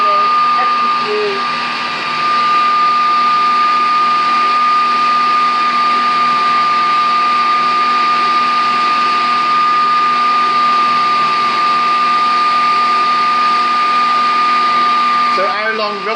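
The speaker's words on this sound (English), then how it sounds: "It just depends on the mixer, how powerful it is" Electric mixer whisking lemon meringue, a loud steady whirring drone that holds without letting up for the whole stretch, ending in a brief clatter.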